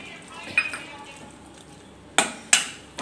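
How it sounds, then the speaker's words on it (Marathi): Masala paste with curd being sautéed in a pan for dhaba-style palak paneer, a faint sizzle under a spoon stirring, with a few sharp metallic clinks of utensil against the pan near the end. "आता हे वाटण आपल्याला छान असं तेल सुटेपर्यंत परतवून घ्यायचं आहे"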